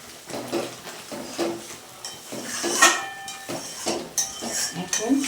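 A spoon scrapes and clinks against a pan as spice masala is stirred and mixed. The knocks come in a quick, uneven rhythm, close and fairly loud, with a soft sizzle underneath.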